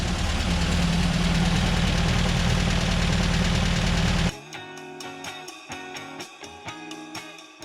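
A VW Baja Bug's engine runs loud and steady at close range, then cuts abruptly partway through, after which a quieter, uneven tapping follows.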